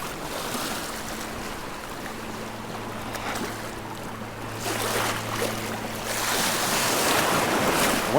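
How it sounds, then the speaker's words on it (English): Rough ocean waves surge and crash during a windy fishing trip, a continuous broad roar with gusting wind buffeting the microphone and swells building louder toward the end. "Oh, I'm getting blown over by these waves."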